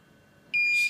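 DJI Phantom 3 controller beeping during a firmware update, with a single steady high electronic tone starting midway and holding for under half a second before cutting off, close and clear over quiet room background.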